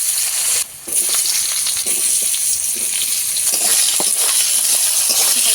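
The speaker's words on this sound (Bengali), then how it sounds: "ভালো ভেজে নেব আলুটাকে" Potato pieces fry in hot oil with black cumin seeds, a loud, steady sizzle with crackling spatters running throughout, close and alone.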